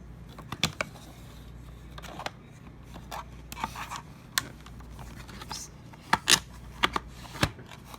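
Paper is cut to size for a small art frame, giving scattered crisp snips and rustling with sharp clicks of handling, close and fairly quiet.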